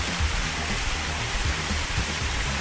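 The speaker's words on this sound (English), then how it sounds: "And the water spray started." Water spray hitting a car in a mobile car wash simulator game, a dense steady hiss like heavy rain, continuous and fairly loud for the whole stretch with no talk.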